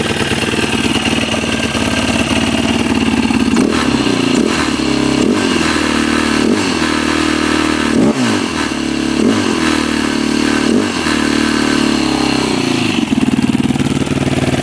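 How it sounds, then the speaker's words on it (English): A Yamaha YFZ 450 quad engine idles steadily and fairly loud, with a low rumble and a periodic mechanical clatter repeating roughly once a second. "Pretty quiet engine."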